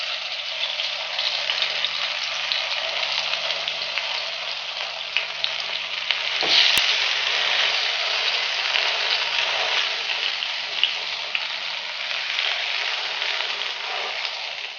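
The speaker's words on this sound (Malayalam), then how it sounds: "എണ്ണ ചൂടായിട്ടുണ്ട്. ഇതിലേക്ക് ഓരോ വഴുതനങ്ങയും വെച്ച് കൊടുക്കാം." Brinjal slices fry in hot coconut oil over a medium flame, a steady, close sizzle and crackle that holds throughout, with one brief sharper spatter partway through and no talking.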